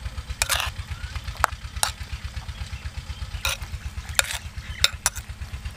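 Bread slices being stirred in a pan for an omelet at a village breakfast outdoors in the fields: irregular scraping strokes over a steady, rhythmic low engine-like thrum running throughout.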